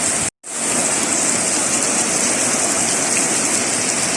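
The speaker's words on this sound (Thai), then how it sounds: "ฝนตกเลยค่ะดูสิคะเห็นมันตกนะคะ" Steady heavy rain pours down outdoors at a home, a dense continuous hiss close to the microphone. A brief dropout near the start cuts it, and then it resumes at full, constant strength.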